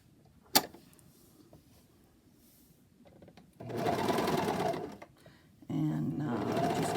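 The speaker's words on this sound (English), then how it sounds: "I'm going to set this in the serger" A serger sewing machine gathers fabric for a bamboo scrub cap, with a brief tap near the start, then two loud bursts of steady whirring stitching with a short pause between them, close up and without talk.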